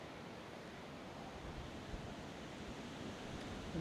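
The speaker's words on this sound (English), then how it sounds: "I can hear water." Waterfall in the Yorkshire Dales heard from a path nearby, a constant, fairly faint rushing hiss of falling water with no voices.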